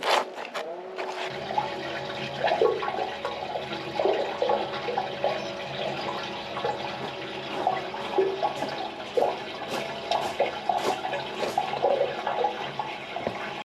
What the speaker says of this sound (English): we're going to pump some water down there with the jetter and just watch it come through the manhole